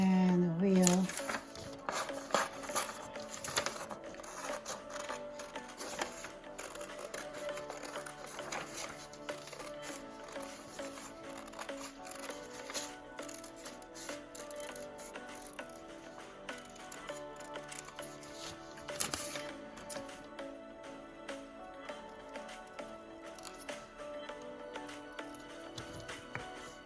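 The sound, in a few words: scissors cutting printed pictures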